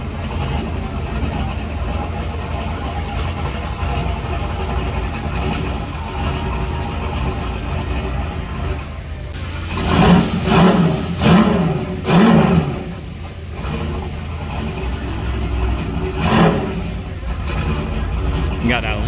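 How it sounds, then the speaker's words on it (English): A car fitted with an aluminum exhaust runs at a shop on a testing day, with a steady idle broken by several short, loud revs in the middle, while people talk over it. "Got that aluminum exhaust on there."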